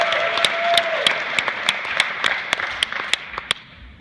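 Audience clapping for volunteers on stage at an after-prom hypnosis show: a broad wash of applause with sharp, close individual claps standing out, gradually thinning toward the end.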